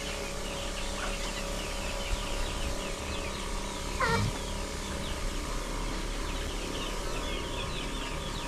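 Poultry on a farm gobble and cluck in a steady, moderately distant chorus, with one louder bird call standing out near the middle over a constant low background hum.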